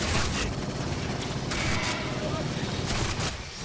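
Gunfire in the video game Aliens: Fireteam Elite, a dense continuous burst of rapid shots with loud bright bangs throughout, mixed under voices talking.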